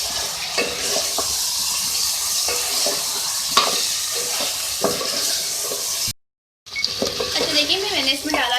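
Garlic paste frying in a karahi for beef karahi, a loud constant hiss and sizzle with spatula scrapes, cut by a brief silence before the sizzling resumes.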